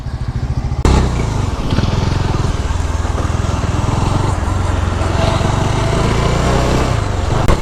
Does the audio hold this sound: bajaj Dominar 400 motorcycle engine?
yes